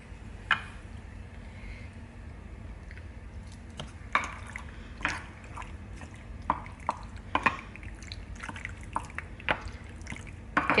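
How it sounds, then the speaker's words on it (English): Pasta being stirred into a meat sauce in a pan for baked ziti, wet squelching and sticky drips with scattered spoon clicks over a faint low background, no talking. "And now I'm mixing it into the sauce a little bit at a time."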